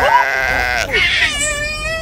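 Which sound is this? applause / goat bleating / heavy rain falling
goat bleating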